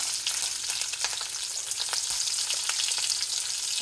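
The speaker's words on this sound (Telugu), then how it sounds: "పచ్చిమిరపకాయలు అయినాక ఉల్లి తెల్లగడ్డలు వేయాలి" Garlic frying in hot oil with curry leaves and green chillies for a Rayalaseema-style okra dish, a continuous bright sizzle close up, punctuated by sharp spits and stirring clicks.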